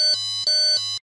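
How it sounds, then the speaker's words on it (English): An electronic buzzer on a Keyestudio Eco Smart House kit gives its higher pitched too-much-water warning: three quick, loud, close beeps in an even rhythm, then silence. "it will have a higher pitched beep"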